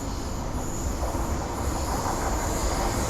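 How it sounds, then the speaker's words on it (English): A British Rail Class 321 electric multiple unit approaches on an Essex line toward Colchester Town. Its dense, steady rumble of wheels on rails has a faint squeal, is loud and close, and runs without speech. "Do have another train approaching, which is some 321s."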